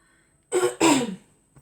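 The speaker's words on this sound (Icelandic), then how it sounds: "Afsakið ræskingarnar, svolítið rám í dag." A single hoarse throat clearing, two rough bursts close to the microphone, loud and isolated between stretches of quiet.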